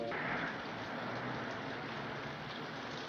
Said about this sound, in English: just when it started raining